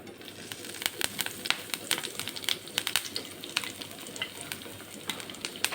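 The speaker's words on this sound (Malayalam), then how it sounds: "എണ്ണ ചൂടായിട്ടാകുമ്പോൾ കറിവേപ്പിലൻ്റെ തണ്ട് ഓടിട്ട് കൊടുക്കാം" Curry leaf stems sizzle in hot oil in a pan, a steady frying hiss broken by frequent sharp crackles and pops, close and moderately loud with no voices.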